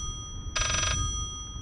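A telephone rings once in a short, loud electronic burst inside the horror game Layers of Fear, standing clearly over a low ambient rumble with no talking.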